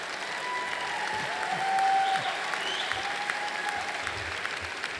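At a university commencement, a large crowd's applause sounds soft and distant, a steady wash of clapping that swells slightly midway and carries through to the end.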